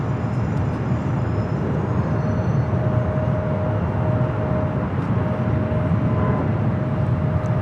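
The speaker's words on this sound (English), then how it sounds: "This takeoff is Alaska Airlines 332 taking off to Los Cabos on the MAX 9." Alaska Airlines Boeing 737 MAX 9 on its takeoff roll, a steady loud broadband jet roar with a faint whine above it, holding constant throughout with no voices.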